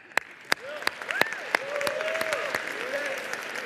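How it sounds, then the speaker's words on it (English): Audience at a youth innovation day of a tech summit in British Columbia breaks into applause: scattered sharp claps at first, then a steady wash of clapping from a moderate-sized crowd, with faint bird-like whistles over it. "That's a round of applause."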